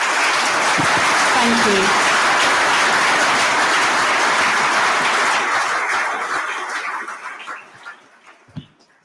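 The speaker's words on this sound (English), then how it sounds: "A big round of applause, please." A conference audience at an active-lives event gives a big, dense round of applause that holds steady for several seconds, then thins into scattered claps and dies away, with a brief spoken thanks over it.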